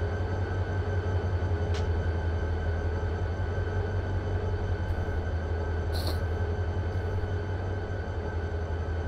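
A coal train passes on the RTS Sanford Subdivision, a loud, steady, close rumble of rolling wagons throughout, with a couple of brief high squeaks.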